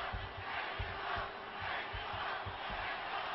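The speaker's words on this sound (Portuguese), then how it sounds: "Dá para sentir aí que tem o apoio total da torcida, né?" Stadium crowd at a 2008 free-kick exhibition event roaring in support of Rafael Márquez, a dense, sustained wall of cheering and chanting with rhythmic low thumps, steady and loud throughout without a break.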